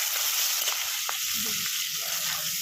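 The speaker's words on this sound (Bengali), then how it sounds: "তেলটা গরম হয়ে গেছে, এবার আমি চিংড়ি মাছগুলো দিয়ে দেবো।" Shrimp fry in hot oil with a bright, steady sizzle that fills the whole clip, plus a couple of faint stirring taps beneath it.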